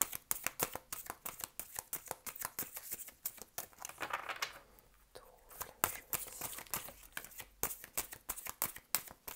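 Tarot cards being shuffled and drawn, giving a long run of quick crisp riffling and slapping bursts, close and fairly quiet, with a short lull midway.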